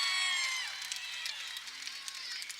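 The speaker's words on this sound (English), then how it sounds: "Nice crowd on hand here" Crowd noise fills a high school basketball gym during a tournament game, a steady broad murmur with scattered cheers and shouts, fairly distant and continuous throughout.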